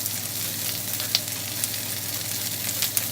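A starch sauce mixture hitting a hot wok of eggplant, potato and green pepper, giving a continuous loud sizzle with a few small pops and crackles.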